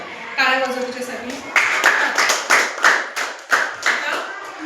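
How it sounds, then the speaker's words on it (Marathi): Schoolchildren at a primary school clap their hands for a classmate, a burst of rhythmic group clapping in several loud pulses, close and lively, following a brief voice at the start. "टाळ्या वाजव तुझ्यासाठी"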